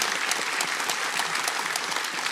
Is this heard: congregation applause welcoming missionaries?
yes